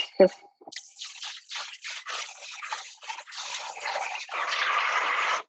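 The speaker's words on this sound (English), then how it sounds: "let's give this a rinse and do it like this" A pastry bag is rinsed under running tap water in a kitchen while making cream puffs: a brief knock, then a close, fluctuating splash and patter of water that grows steadier and louder toward the end.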